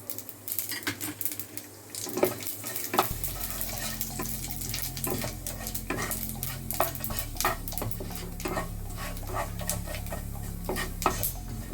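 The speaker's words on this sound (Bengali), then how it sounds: "তেলটা গরম হয়ে গেলে এর মধ্যে আমি এই 5 ফোড়নটা দিয়ে দেব।" Panch phoron spices hit hot oil in a pan and sizzle, a continuous crackling fry that starts partway through and keeps going steadily, with scattered sharp clinks of a utensil over it and no talk.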